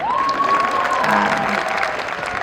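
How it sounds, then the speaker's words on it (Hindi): A crowd at a Republic Day 2024 program at Kala Ashram Ayurved Medical College in Gogunda breaks into steady applause, with a sustained whistle-like tone riding over the clapping. "अब एक बार मेरे लिए भी ताली बजाओ भाई।"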